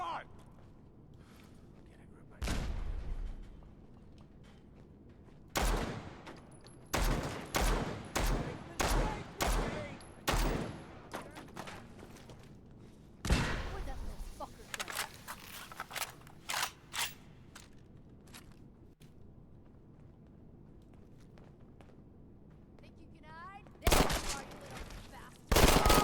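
Gunfire from a weapon in Fallout 4, heard as loud bursts of sharp shots in clusters with pauses between them. Someone talks over parts of it.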